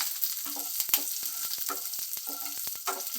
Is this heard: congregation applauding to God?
no